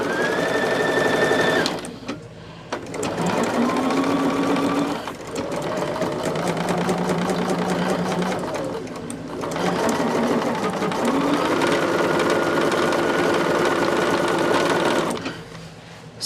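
An electric sewing machine stitches quilt fabric in three long runs, each a loud steady whir with a rising tone, broken by short pauses while the fabric is repositioned.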